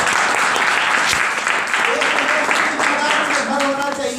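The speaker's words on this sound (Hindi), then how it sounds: "ताली" A crowd at a marketing meeting bursts into applause, a thick, continuous clatter of many clapping hands filling the room, with some voices audible beneath it.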